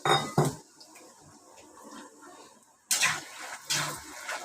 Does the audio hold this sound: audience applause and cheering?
no